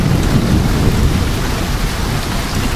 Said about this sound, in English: This is the rain part of the storm.